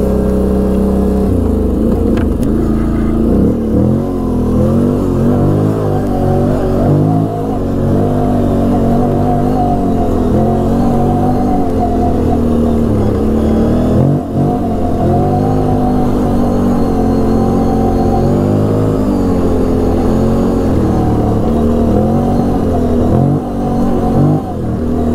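A Can-Am Renegade 800 ATV runs steadily along a trail in high range, its engine droning loud and close with a continuous mid-pitched whir and small surges in revs throughout.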